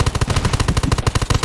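Rapid automatic gunfire in the online shooter Undawn during a PvP supply-camp battle, with evenly spaced shots in quick bursts, loud and close, with no talk over it.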